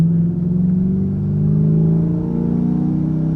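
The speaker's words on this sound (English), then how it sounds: "Clutch in, second gear." A manual car pulls away in second gear after a shift, with a steady, fairly loud mid-pitched engine drone that climbs gradually in pitch over a few seconds, heard alone.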